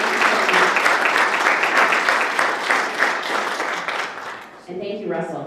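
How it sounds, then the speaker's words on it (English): Audience applause for panelists at an African Heritage Month flag raising in Halifax, loud sustained clapping from a crowd that fades out near the end as a voice begins speaking. "Please give our panelists another round of applause."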